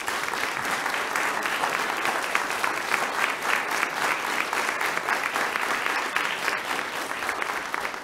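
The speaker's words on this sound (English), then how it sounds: "So let's give them one more round of applause." Sustained applause fills a school district board of education meeting as the audience honors students, a dense, steady wash of many hands clapping at even volume for about eight seconds, heard from a distance across the room.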